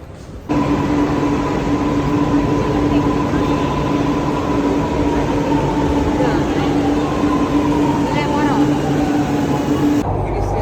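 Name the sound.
metro train riding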